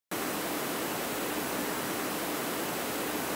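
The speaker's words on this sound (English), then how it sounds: "Here's some white noise that comes in at one point in the beat." Steady white noise used as an element in the hip-hop beat of a track starts abruptly and holds as a constant, even hiss with no other sounds.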